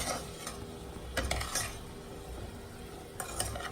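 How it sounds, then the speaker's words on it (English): A spoon stirs a pat of butter and seasoning salt into a pot of food with onions, making gentle scraping and clinking strokes over a low sizzle, close by. "And then you want another pat of butter. You want to stir it all up."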